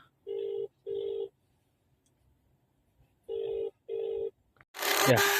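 A phone rings while calling a customer from a tablet, four clear ringback tones in two pairs over quiet background, followed by a burst of louder noise at the end.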